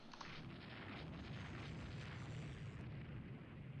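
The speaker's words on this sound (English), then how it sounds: "We have hit that destroyer with another missile." In the naval strategy game Rule the Waves 3, a missile strikes a destroyer, producing a dense, rumbling blast that swells and lingers as a continuous roar through the whole moment.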